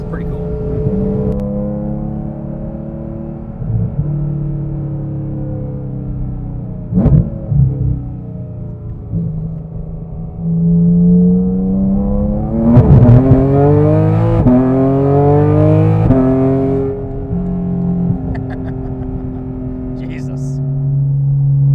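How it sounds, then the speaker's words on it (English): Porsche GT4 RS flat-six engine revving and easing off through the gears, with exhaust burbles and popping overrun crackles, heard loud and close from inside the car as a steady drone with rising rev sweeps. "It's got all the frickin' burbles and overrun bubbles."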